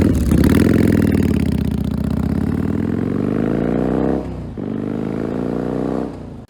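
A 1981 Yamaha XV750 cafe racer runs close by with its exhaust needing repair, giving a loud, throaty idle that rises slightly, dips briefly, then settles back to a steady rumble before cutting off.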